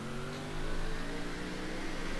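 A stock car engine in a NASCAR racing game revs hard during a burnout, holding a strong, steady roar that swells slightly after the first half second, heard alone at moderate volume.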